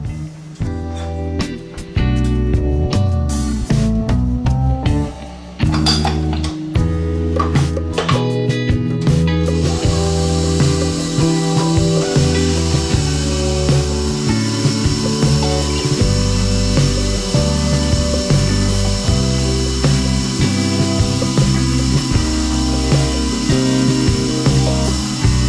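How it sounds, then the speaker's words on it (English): A mixer creams butter with white and brown sugar on medium-high speed for soft peanut butter cookies, giving a loud, steady motor whir that runs continuously and shifts slightly in tone partway through, with no talking. "we're going to mix on medium-high until this is light and fluffy"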